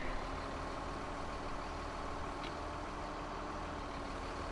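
Steady low engine drone of a truck in a farming simulator game, idling continuously and evenly at moderate level, no voices over it.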